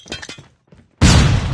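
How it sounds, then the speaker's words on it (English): A flashbang grenade goes off in Call of Duty Mobile, a sudden loud burst with a sharp crack that follows a short stretch of quiet clatter and lingers at high level. "Flashbang."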